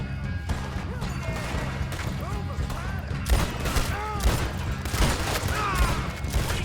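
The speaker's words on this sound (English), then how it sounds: "Who was shooting me?" Gunfire in the video game Red Dead Redemption 2, a rapid string of shots and crashes, louder in the second half, over game ambience with voices shouting in the background.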